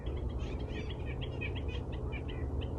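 Three tiny birds on branches beside a trail trade rapid, thin high squeaks in a busy chattering run, moderately near over a constant low outdoor rumble.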